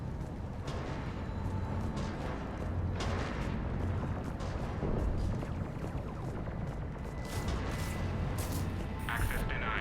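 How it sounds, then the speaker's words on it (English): Cannons fire in Mass Effect 3, heavy booming blasts recurring over a dense rumbling battle backdrop, with sharper impacts toward the end and a voice speaking intermittently. "Those cannons have to be stopped."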